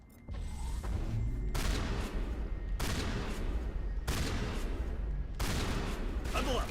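Rapid bursts of shredder-round gunfire from the Mass Effect video game, four loud sustained volleys with short gaps between them, dense and continuous like a fusillade.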